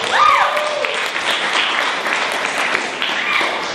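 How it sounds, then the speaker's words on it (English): Loud crowd applause with cheering and whoops, sustained throughout, a few raised voices calling out over the clapping. "Round of applause for the queer Greek community."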